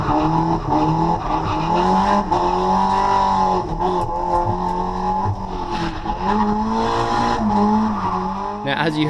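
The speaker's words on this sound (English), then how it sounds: "as you heard just then, you heard the tire screech" A tuned race car on a track day sweeps through a spin, its tires screeching over a loud, steady engine roar, while a voice talks throughout.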